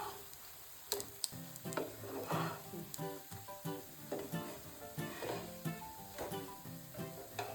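A green pea cutlet fries in a pan with a close, continuous crackling sizzle, dotted with small pops and sputters throughout.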